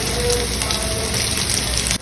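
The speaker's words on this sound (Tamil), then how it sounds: "எண்ணெய் சூடாச்சு. கருவேப்பிலை, பச்சை மிளகாய், பொடியாக நறுக்கின பூண்டு," Curry leaves, green chillies and chopped garlic sizzle in hot oil, a dense, loud, continuous crackle close by that cuts off sharply near the end.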